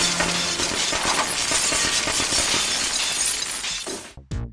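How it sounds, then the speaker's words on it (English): Dozens of light bulbs crash and shatter in a dense, loud burst of breaking glass that runs continuously for several seconds in a film stunt scene, then cuts off abruptly into brief near-silence with a few scattered tinkles. "crashing dozens of light bulbs."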